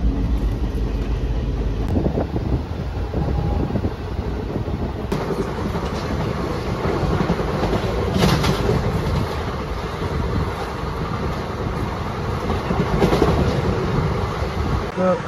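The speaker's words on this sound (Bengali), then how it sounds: "আমাদের ট্রেন এই মুহূর্তে রওনা দিয়েছে পণ্ডিত দীনদয়াল উপাধ্যায় জাংশন অথবা মুঘলসরাই উদ্দেশ্যে" The 12311 Netaji Express, running from Howrah to Kalka, rolls along the rails with a loud, continuous rumble. Wheel clatter, sharp clanks and the rush of wind blend into it, heard from inside the moving train.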